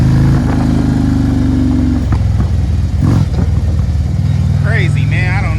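A Harley motorcycle engine idles and revs unevenly, stumbling and bogging instead of climbing cleanly, a loud close rumble that sags and recovers while someone talks over it.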